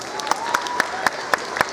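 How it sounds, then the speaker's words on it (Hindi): Applause for a student speaker at a government girls' senior secondary school in Chamba, a modest, steady patter of clapping with a few sharper claps standing out and a voice heard over it. "एक बार पुनः भावना के लिए जोरदार ताली"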